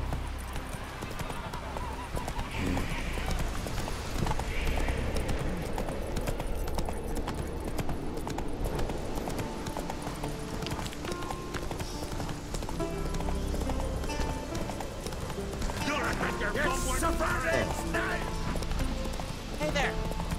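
In The Witcher 3 video game, a horse's hooves clip-clop in a steady galloping rhythm, close and continuous, with occasional whinnies and characters talking over the ride.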